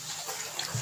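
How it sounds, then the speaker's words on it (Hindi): Water poured into a pan of spicy chicken topping cooking on the stove, a brief splashing trickle lasting under a second. "अब इसमें 1 घूंट पानी का हम और लगा देंगे, 1 से 2 घूंट लगा देंगे"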